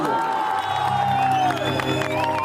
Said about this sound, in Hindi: मैं चाहता हूं अपने देश के लिए जोरदार ताली बजनी चाहिए